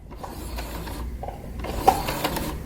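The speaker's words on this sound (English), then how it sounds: "So I'm going to continue sewing until I reach there." A sewing machine runs slowly through fabric for a sunglasses case, a quiet close mechanical whirring and rattling with a sharper click near the end.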